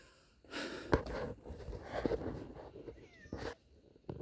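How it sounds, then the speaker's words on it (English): Cat meowing outdoors, a few faint distant meows under soft background noise and breathy sounds. "Or it's a neighbor cat."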